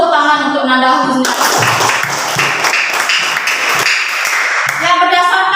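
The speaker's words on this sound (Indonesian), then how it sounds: "Tepuk tangan untuk Nanda Husni" A burst of audience clapping for a student presenter at a school event, several seconds of fairly close hand claps framed by a speaking voice before and after.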